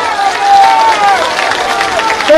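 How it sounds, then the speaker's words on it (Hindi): Crowd at a Congress party rally in Rahatgarh clapping and cheering to welcome Kamal Nath, a loud, steady wash of applause and crowd noise with voices mixed in. "हमारे परम आदरणीय परम सिद्ध माननीय कमलनाथ जी की ताली बजाकर स्वागत किया जाए।"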